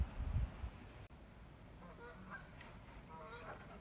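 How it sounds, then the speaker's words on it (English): Geese honk faintly in the distance over a cattle pasture, a few soft scattered calls against steady outdoor background noise. "I hear a couple geese."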